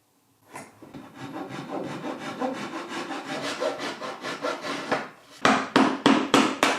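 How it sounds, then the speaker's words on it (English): A handsaw cuts joinery in white oak with a steady run of rasping back-and-forth strokes, then a brief pause and a few louder, sharper, more separated strokes close to the microphone. "I started out aiming to get my joints nice and snug by cutting them by hand"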